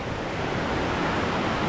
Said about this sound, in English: I found this stream